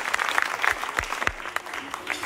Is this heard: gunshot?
no